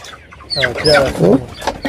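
Several broiler hens cluck close by in a busy, overlapping burst of squawks and clucks lasting a couple of seconds.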